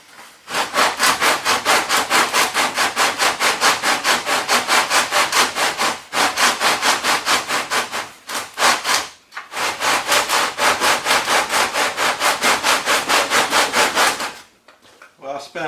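Hand sanding the wooden rim of a DCC guitar kit, loud close rhythmic back-and-forth rasping strokes in long steady runs, pausing briefly twice before resuming.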